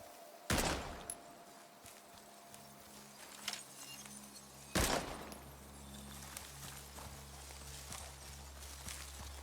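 Two heavy, booming shots from the video game Chernobylite 2 ring out several seconds apart over a low, steady ambient hum, with fainter clicks and movement sounds in between and no talking.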